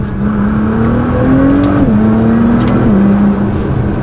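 A Nissan GT-R fitted with a new performance exhaust revs steadily, its engine note climbing and dipping in pitch over a few seconds, loud, close and continuous with no talking.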